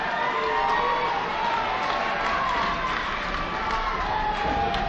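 A dense wrestling crowd at an indoor show cheers and shouts loudly and without a break, a constant wash of voices filling the hall.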